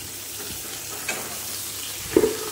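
Mixed vegetables with dried chilli frying in a kadai for a prawn curry, a steady sizzle with a scrape of the spatula mid-way and a louder stirring clatter near the end.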